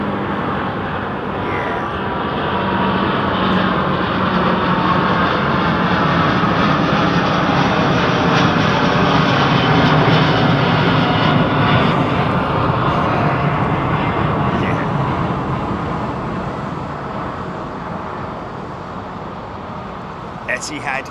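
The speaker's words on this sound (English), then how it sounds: "Etihad is rolling." Etihad jet airliner on its takeoff roll at London Heathrow, a long swelling engine roar that builds to a peak midway and then slowly fades as it climbs away, loud and sustained.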